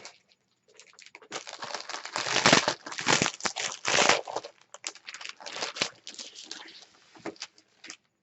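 Paper being burnished down in a shadow box craft, heard close as dry rubbing and crinkling strokes that come in irregular bursts, swelling and fading over several seconds; no talking.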